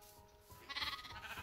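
A single close sheep bleat in the modded Minecraft game FTB Ultimate sounds out briefly over faint background game tones.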